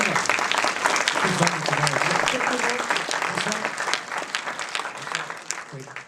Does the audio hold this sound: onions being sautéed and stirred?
no